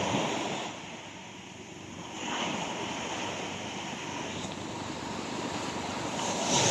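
Strong sea waves surge and wash in a broad roar, swelling and easing in slow pulses, with wind buffeting the microphone.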